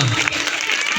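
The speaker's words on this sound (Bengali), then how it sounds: "করতালির মাধ্যমে স্যারদের বরণ করে নেব না আমরা" A school audience claps to welcome guests at an honouring ceremony, a brief dense burst of applause from a crowd.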